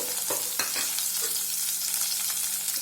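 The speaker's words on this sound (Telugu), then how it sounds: "వీటిని మెత్తగా అయ్యేంత వరకు ఫ్రై చేసుకుందామండి ఆనియన్స్ని" Large sliced onions frying in a few tablespoons of hot oil for egg curry, a steady close sizzle with occasional stirring scrapes and no voices.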